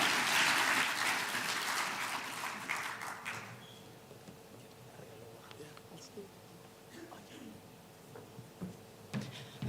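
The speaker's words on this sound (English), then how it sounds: "I think the minister deserves another round of applause." An audience at a schools challenge winners' announcement applauds the minister in a dense, loud burst of clapping that fades after a few seconds. Quieter crowd murmur and scattered sounds follow.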